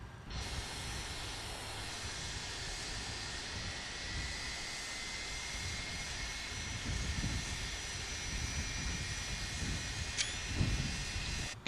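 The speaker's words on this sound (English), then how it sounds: "I'll let you hear this spool up." Number one engine of an MD-83 airliner spooling up in a flight simulator game, a steady loud jet whine and broad rushing roar that holds constant and swells slightly toward the end, with no voices.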